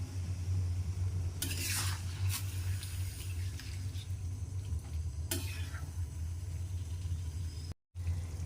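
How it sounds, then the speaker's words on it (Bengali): Boiling water is poured into jackfruit curry in a hot pan. A couple of sizzling splashes rise over a steady low hum of cooking, separated by a quieter, simmering stretch. "এই জলটা এঁচোড়ের মধ্যে দিয়ে দেবেন"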